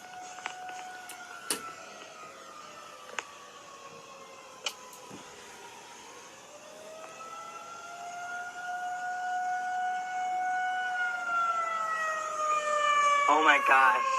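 During a 2022 tornado siren test, an outdoor civil defense siren holds a long wavering wail that dips, rises and swells louder as it rotates, with occasional nearby clicks and soft voices beneath it.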